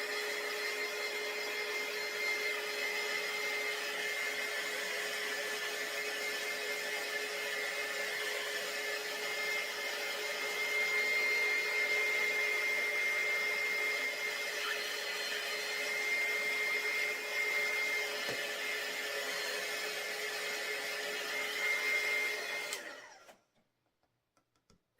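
An electric dryer blows over fresh paint on a DIY wooden sign, giving a steady, whining motor drone with a constant hum. It runs unbroken for over twenty seconds and then cuts off abruptly into silence.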